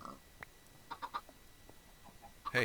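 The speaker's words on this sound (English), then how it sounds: "Where'd that chicken go?" Minecraft chickens in the All The Mods 3 modpack give a few quiet, scattered clucks against near silence, ending in a louder burst.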